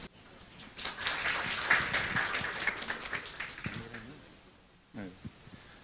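Audience applause at a Thai industry seminar on cyber-physical systems and smart factories, welcoming a speaker: a dense burst of clapping that swells then fades, with a voice briefly talking near the end.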